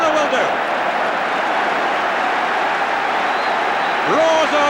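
Stadium crowd roaring and applauding at the 1976 FA Cup Final between Southampton and Manchester United, a dense, loud, sustained wash of cheering with a commentator's voice over it.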